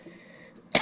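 A person gives one short, sudden cough at the very end, close and fairly loud after near silence.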